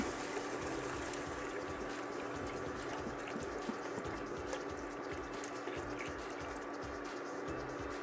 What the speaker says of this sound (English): Now we're going to add our half and half to the pot.